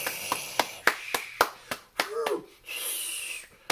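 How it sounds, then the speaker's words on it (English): Sparse, separate hand claps ring out at a slow, uneven rhythm, about ten sharp slaps close to a single mic, followed by a brief breathy hiss and background noise. "we're going to give all those that was born on Nia a round of applause"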